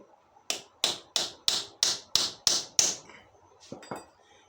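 A bicycle bottom bracket being struck to tighten it: eight sharp, evenly spaced knocks ring out close up, followed after a short pause by two softer taps.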